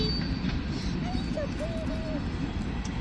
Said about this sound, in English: There's your train for you.